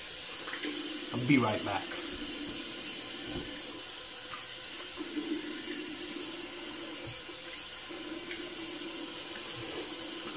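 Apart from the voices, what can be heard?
tap water running for a cold rinse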